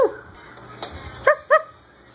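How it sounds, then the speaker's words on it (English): Pet dogs on a walk give a few short, sharp yips and barks, close by, with two bright, high barks near the end. "You got your doggies?"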